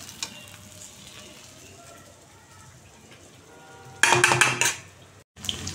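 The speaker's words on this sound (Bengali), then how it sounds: "এই আলুগুলো লাল করে ভেজে নিচ্ছি" Potato chunks fry in hot oil in a pan for a Bengali aloo potol dalna. A steady low sizzle runs throughout, then a loud burst of spattering and stirring clatter swells near the end before cutting out briefly.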